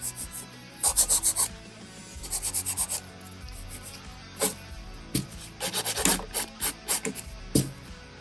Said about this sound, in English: now I can go on with my good file, my 100, and I'm just gonna file this nail